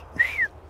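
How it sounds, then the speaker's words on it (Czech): A person gives two quick, clear whistle notes, the second sliding slightly downward, brief and close against a quiet outdoor background. "Pískni."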